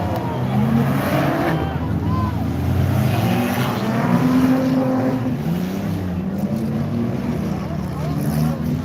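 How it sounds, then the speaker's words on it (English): A black and orange Ford Freestyle race car revs hard around a track, its engine drone rising and falling through the lap under a steady roar, with a commentator talking over it. "Cameron Sabula heavy on the throttle in that black and orange Ford Freestyle"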